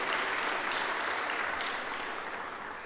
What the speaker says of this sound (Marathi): एकदा शरयूताईंसाठी सुद्धा जोरदार टाळ्या झाल्या पाहिजे